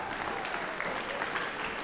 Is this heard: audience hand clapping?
yes